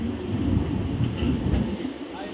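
A passenger train rolls into Pathankot station, giving a steady low rumble of wheels and carriages that stays constant and fairly loud throughout.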